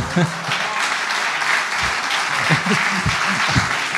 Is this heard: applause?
yes